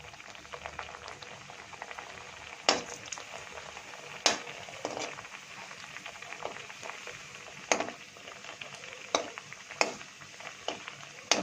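Nimki, a flaky Bengali pastry, fries in hot white oil with a steady bubbling sizzle broken by sharp, irregular pops, heard close and alone without any talking.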